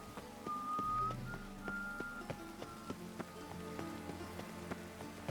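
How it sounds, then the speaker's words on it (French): Soft, scattered raindrops tap on a surface at a quiet, irregular pace in the video game The Witcher 3: Wild Hunt, accompanied by faint tonal whistling notes in the background. "La pluie va tout gâcher."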